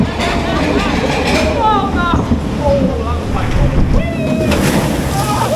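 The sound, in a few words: water splashing over riders on Pleasurewood Hills water ride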